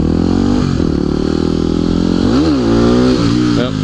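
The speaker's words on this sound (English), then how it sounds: "I'm so glad my intro wheelie was better than my outro wheelie." Motorcycle engine revving loud and close throughout an outro wheelie, a steady roar with pitch swells as the throttle rises and falls.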